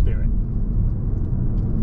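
A Vauxhall Astra 1.2 litre turbo GS Line being driven in fourth gear, accelerating from about 45 to 55 mph, gives a steady low engine and road rumble throughout, with someone talking over it.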